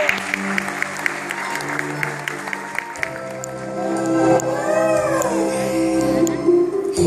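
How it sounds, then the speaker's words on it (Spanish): Audience applause at a comedy stage show about nuns, a steady dense wash of clapping that grows fuller midway, with a whistling, howl-like vocal tone sliding over it near the end. "Aplausos, por favor. ¡Bravo! ¡Bravo!"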